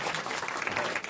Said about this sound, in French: bravo, on vous applaudit, Monsieur Persiani